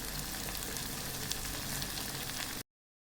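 Chopped onions sauté in a hot pan for a millet dosa with a steady, close, loud sizzle that holds unbroken before cutting off abruptly.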